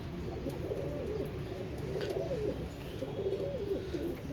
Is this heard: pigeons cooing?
yes